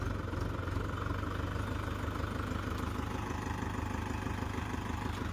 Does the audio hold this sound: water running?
no